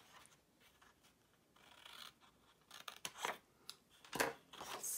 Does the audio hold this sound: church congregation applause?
no